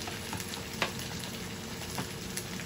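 Vegetables sizzle and fry steadily in a hot pan while ketchup is added for Chicken Manchurian, a continuous close crackle with a few small pops and stirring clicks.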